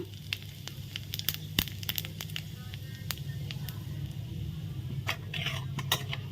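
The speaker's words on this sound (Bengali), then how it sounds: "এখন তেলের মধ্যে আমি জিরা ফোড়ন দিয়ে দেবো ফোড়নে দিলাম জিরা" Cumin seeds crackle and pop in hot oil, a quiet, dense patter of sharp sizzling spits scattered irregularly throughout, with no one speaking.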